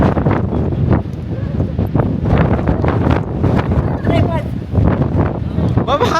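Strong wind buffets the microphone on Fansipan mountain in Vietnam, a loud continuous roar with gusty surges while people talk excitedly over it.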